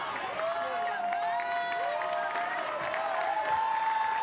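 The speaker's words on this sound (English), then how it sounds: "Crowd getting into it" Spectators at an NCAA softball regional final between Missouri and Omaha cheer and clap steadily in a large outdoor crowd, with a broadcaster talking over the noise.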